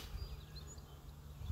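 Honey bees on a beehive lid buzz in a faint, low, steady hum that holds without pause through the short moment.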